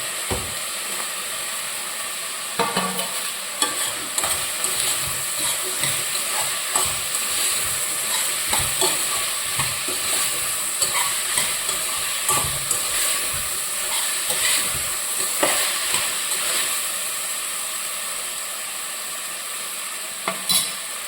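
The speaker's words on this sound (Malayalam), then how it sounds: "നമുക്ക് ഉരുളക്കിഴങ്ങും പച്ചമുളകും കൂടെ ഇടാം" Potatoes and green chillies sizzle in a hot pan with a steady frying hiss, while a utensil scrapes and stirs at an irregular rhythm, close up and with no talking.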